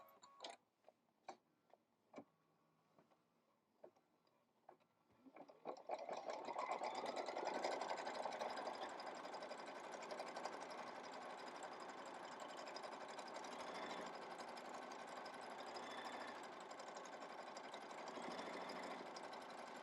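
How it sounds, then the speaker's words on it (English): An embroidery-style sewing machine stitches a decorative design on top of a hexagon quilt block, starting after a few scattered clicks and then running as a steady, fast mechanical whir that continues evenly and close by, with no talk. "It is now going to stitch out the decorative design on top."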